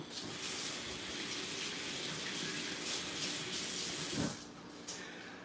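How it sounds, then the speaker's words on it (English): Tap water runs steadily into a sink while hands are washed, a continuous close hiss that cuts off near the end. "now I need to wash my hands"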